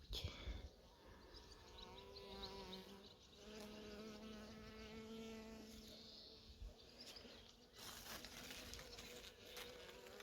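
Faint buzzing of insects, several tones wavering and overlapping, with brief clicks and a soft background hum.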